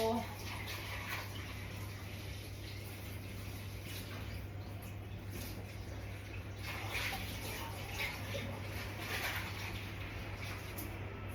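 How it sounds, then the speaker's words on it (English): A tap runs steadily into a dog's water bowl, water pouring in a continuous close stream with occasional splashing shifts, moderately quiet. "Refill his water bowl."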